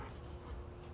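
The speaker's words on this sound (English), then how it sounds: "the dogs" Dogs whimper and pant in a short, faint burst of soft whines and breathy huffs close by, with no speech.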